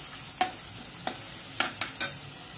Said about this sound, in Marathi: कांदा छान असा लालसर आपल्याला पोळून घ्यायचा आहे